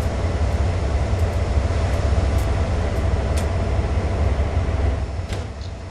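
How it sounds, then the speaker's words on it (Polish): Train doors closing aboard a locomotive in Train Sim World 2, a constant loud mechanical hum and rumble with faint clicks and a slight drop in level at the end. "Drzwi zamknięte."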